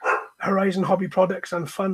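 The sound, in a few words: dog barking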